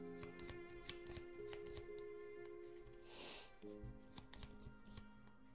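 Playing cards for the Mythwind tabletop game being shuffled close by, a quiet run of light flicks and riffles over faint background music.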